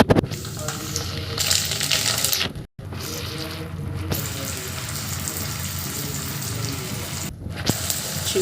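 Ginger and garlic hit a hot pan for pulao with a loud, steady sizzling hiss, briefly cut off once before resuming near and continuous.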